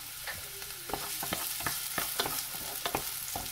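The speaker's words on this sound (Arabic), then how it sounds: "دابا درت العافيه هنايا تسخن، غادي نزيد عليها البصله اللي قطعت رقيقه" Thinly sliced onion sizzles in hot oil, a continuous close hiss broken by repeated sharp stirring scrapes and taps roughly every half second, with no one talking.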